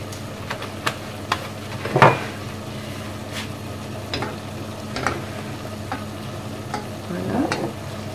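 Milk stirred in a cooking pan for a chicken and potato gratin: scattered clicks and taps of a utensil against the pan over a faint simmering hiss, close, with one louder scrape and no speech.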